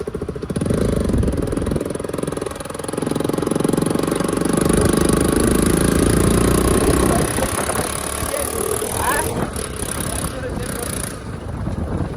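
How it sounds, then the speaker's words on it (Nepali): A motorcycle engine idles by a roadside at a checkpoint, a low, steady rumble running throughout at close range, while voices talk over it. "बाइक हेर न बाइक"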